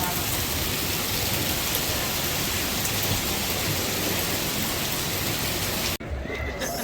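Heavy rain and hail hammer down in a storm in Bologna, a loud, dense, unbroken roar that cuts off abruptly near the end.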